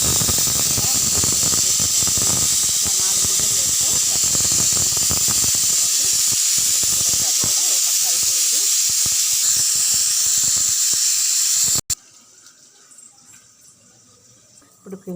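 Onions fry in a pan with a loud, steady steamy sizzle and hiss for most of the time, then drop suddenly to near silence near the end; a voice is faintly present.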